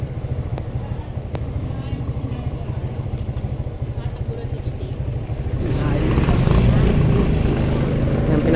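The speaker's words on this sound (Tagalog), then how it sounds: "tigil tayo kasi may motor. Ayan, may dumaan kasi siya." A motorcycle engine rumbles steadily close by, swelling louder as it passes while the rider waits aside on the way home from work, with some talk present.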